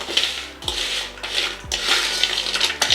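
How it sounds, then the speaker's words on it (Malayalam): A utensil stirs jaggery-coated banana chips in a pan, making repeated rough scraping and rustling sweeps with a few knocks against the metal, close and loud. "നമുക്കൊന്നുകൂടി ഇളക്കി കൊടുക്കാം."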